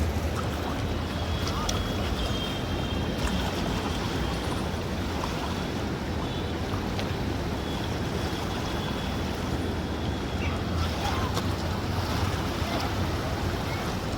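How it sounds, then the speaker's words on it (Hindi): Surging Ganges river water at high flood churns and crashes without letup, a loud, dense roar of turbulent waves with wind buffeting the microphone throughout. "एकदम पछाड़े खाता हुआ पानी, लपटे जैसे उठती हैं लहरें, एकदम बहुत तेज़ हो रखी हैं।"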